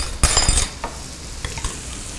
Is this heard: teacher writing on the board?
no